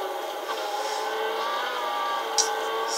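Race car in Gran Turismo 6, a 24-minute Le Mans race, driven flat out, its engine holding a steady high-pitched whine at full throttle with a brief sharper burst near the end.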